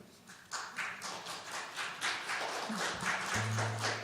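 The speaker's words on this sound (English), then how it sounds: "This is like the evening of smattering applause." A thin, scattered round of clapping from a small audience, close and uneven, with a low tone sounding near the end.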